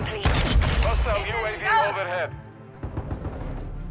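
Rapid pistol shots crack in a burst in Call of Duty: Modern Warfare II, a snakeshot-loaded handgun firing in a multiplayer Hardpoint match, loud and close, with a player talking over the gunfire.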